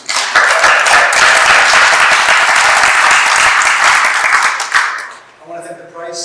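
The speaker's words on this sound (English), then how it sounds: "And if we have a round of applause for the" A large audience bursts into sustained, loud applause at a public library event in Newark, dense clapping filling the room for about five seconds before fading.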